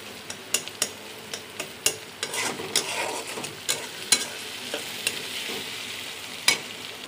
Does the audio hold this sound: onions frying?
yes